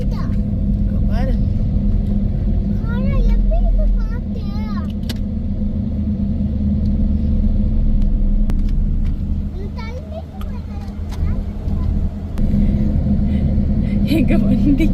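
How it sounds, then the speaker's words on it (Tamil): A car's engine strains as it climbs a steep slope near AlUla in the Tabuk region, giving a low, steady, close rumble, with people talking over it. "எங்க வண்டி மேலே ஏறதுக்கு முக்குது."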